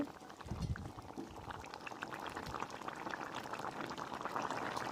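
Cauliflower and fish curry bubbling in a pan makes a faint, continuous simmering burble with soft popping bubbles, quiet and close, without voices.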